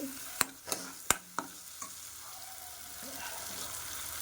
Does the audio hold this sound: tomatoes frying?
yes